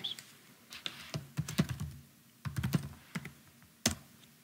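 A password typed on a computer keyboard, with irregular clusters of close, crisp key clicks and a few heavier thumps, such as a spacebar or enter key, in a quiet room and with no talking.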